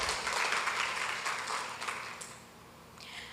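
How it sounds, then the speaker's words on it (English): A Father's Day programme audience at Couva Mandir applauds, a dense round of clapping that is loud at first and then fades toward the end. "Let's give another round of applause."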